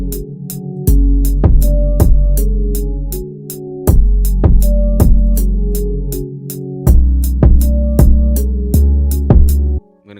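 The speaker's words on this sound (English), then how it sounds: "I'm going to add a kick." Punchy kick drum hits land on a steady groove under a booming 808 bass line, with light ticking percussion throughout and a brief drop near the middle.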